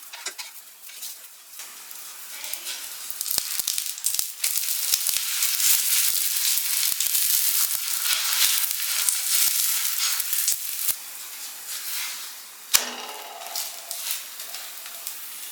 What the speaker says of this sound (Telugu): డార్క్ బ్రౌన్ కలర్ వచ్చేలాగా మనం ఫ్రై చేసుకుందాం